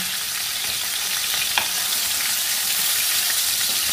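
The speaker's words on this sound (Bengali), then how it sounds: "মাছটা কিন্তু হালকা তেলে নেড়েই নামিয়ে নেব।" Koi fish sizzles while being lightly fried and stirred in a little oil, a close, even hiss with one brief sharper clink partway through and no talking.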